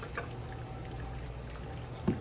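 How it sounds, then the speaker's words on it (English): Chicken broth, two cups, is poured into a pan of green chili chicken filling, a soft continuous splashing pour with a faint clink near the end. "I'm going to add in my chicken broth, my 2 cups"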